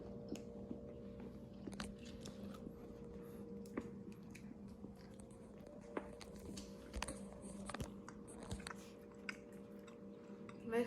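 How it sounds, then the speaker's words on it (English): Homemade deer jerky is chewed close to the mic with soft, irregular crunching and squishy bites over a faint steady background hum. "give this jerky a try for us"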